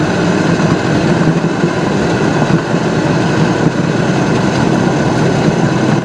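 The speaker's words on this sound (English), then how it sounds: "Let you hear the exhaust a little bit more." A 1969 Oldsmobile 442 classic muscle car exhaust: a steady, loud rumbling engine drone runs throughout, deep and continuous with a constant low roar and no voices.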